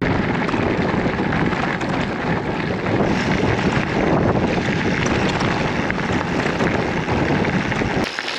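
Strong wind buffeting the microphone in a steady, roaring rush on a sandy Scottish gravel cycling route, broadband and continuous, with no voices.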